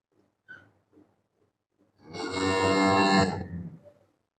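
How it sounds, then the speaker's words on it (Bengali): Holstein Friesian dairy cows on a farm, one giving a loud, drawn-out moo lasting over a second, preceded by quieter shuffling and a brief higher call, with no talk over it. "চমৎকার কিছু গাভী আমরা দেখতে পাচ্ছি মেসাস মক্কাল এখন ডেয়ারি ফার্মে"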